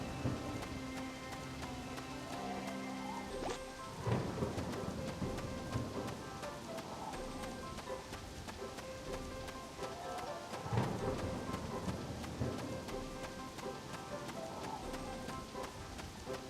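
Steady rain with low rolling thunder in the farming game Harvest Moon: Animal Parade, an even wash of rainfall over game music with two heavier thunder swells.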